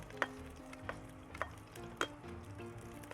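Onions sizzle in a pan with other vegetables while pinakbet is being cooked, giving a steady, close frying hiss punctuated by several sharp pops and spatters.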